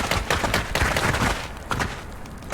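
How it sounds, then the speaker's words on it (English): Dense volley of gunfire-like blasts from a sound cannon in the Casualties Unknown game on its hardest desolate difficulty, loud repeated thumps and booms crowding together with no talk. "Well, that was a sound cannon also."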